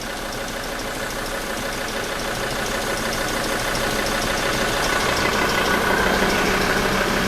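A Mazda BT50 diesel engine idles steadily while running a forced regeneration, a continuous, fairly loud mechanical drone with slight knocking texture that grows a little stronger toward the end.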